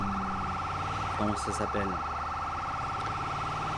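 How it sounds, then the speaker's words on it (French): An emergency vehicle siren wails steadily in the GTA video game, a loud, continuous two-tone drone running throughout while someone speaks briefly in French. "J'ai coupé la sirène, excusez-moi."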